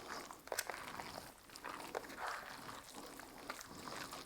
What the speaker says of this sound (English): It's like sloshing around in there.